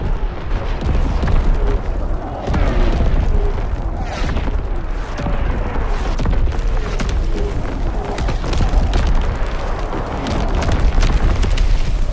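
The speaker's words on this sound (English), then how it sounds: "Incoming enemy artillery! Get to cover!" Enemy artillery explodes during online multiplayer Call of Duty WWII gameplay, producing a continuous loud rumble of booms and bursts with dense low-end blasts across the whole stretch, and faint voices mixed beneath.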